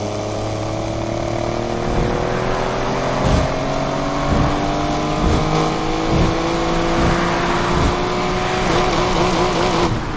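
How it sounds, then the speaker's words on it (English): A McLaren engine accelerates in fifth gear with a loud, steady drone that slowly rises in pitch over about ten seconds. Rhythmic thumps from the road or car sound through it, and no one talks. "I'm going to take us up in 5th gear and I want you to just listen to the engine sound as we go through."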